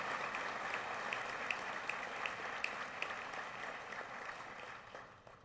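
A crowd at a formal university anniversary ceremony in Costa Rica applauds a group of distinguished students, a dense, even clapping heard from a distance that holds steady and then fades out at the end.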